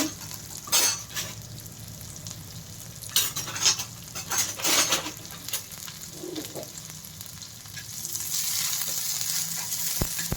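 Chopped capsicum and vegetables half-frying on a clay griddle, with stirring and scraping of utensils in bursts over a steady sizzle that grows louder toward the end.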